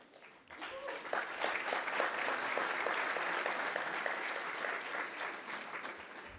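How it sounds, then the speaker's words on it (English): Sustained audience applause at a prime minister's public address, a dense wash of many hands clapping that swells in after a brief quiet start and holds steady, fairly loud and continuous, with no talk over it. "I'm sure that all applause came from Albanians"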